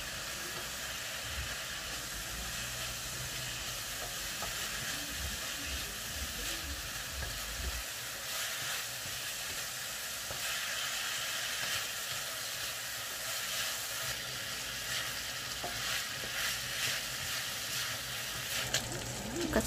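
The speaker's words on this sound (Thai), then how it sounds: "แล้วเราก็เอาขิงลงไปผัดกับหมูเลยนะคะผัดจนขิงออกกลิ่นหอมผัดไปเรื่อยๆ" Pork and ginger stir-frying in a wok give a continuous, fairly loud hiss and sizzle throughout, with steady scraping and tossing noises mixed in and no voices over it.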